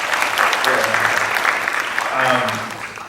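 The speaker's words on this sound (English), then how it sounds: "So just give them a round of applause." Applause from a church congregation welcoming new youth ministry directors, a steady dense wash of clapping lasting a few seconds, with voices talking over it.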